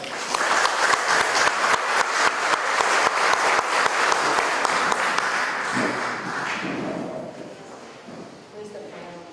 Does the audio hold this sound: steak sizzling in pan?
no